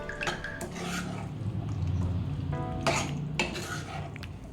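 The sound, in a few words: stirring chickpea masala in a pan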